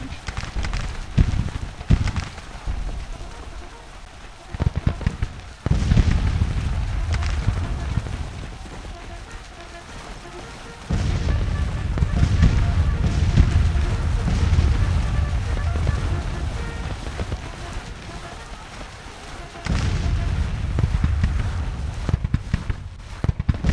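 Artillery fire in the Civil War strategy game Grand Tacticians, 1861–1865, with repeated booming volleys and sustained rumbling battle noise that swells and drops in waves, while someone talks over it.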